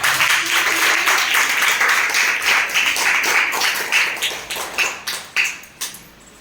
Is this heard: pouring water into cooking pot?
no